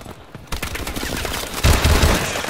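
Rapid gunfire in a multiplayer match of Advanced Warfare on the Skyrise map, a dense stream of sharp shots running the whole time and swelling into a heavier, louder burst toward the end.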